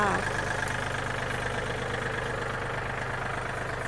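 A used Yanmar EF393T tractor from 2014 runs steadily at idle nearby, its engine giving a continuous low, even drone with a faint rhythmic knock throughout.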